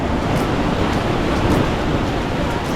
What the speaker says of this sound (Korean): 오늘 파도가 세서 수영하는 사람은 없네요